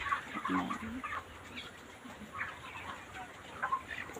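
Chicks on a poultry farm make faint, scattered peeping and clucking calls over a low, noisy background, in short bursts spread across a few seconds.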